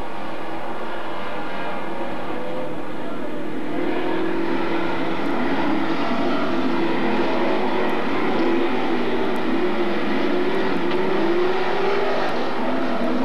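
Race cars roar around the Magic City Speedway dirt track in Billings, Montana, a loud continuous droning pack of engines with a rising and swelling whine, heard from trackside without pause.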